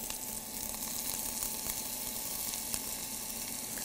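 Minced onion sizzling in a beef stew pot, a steady, dense frying hiss with occasional small crackles, close and continuous.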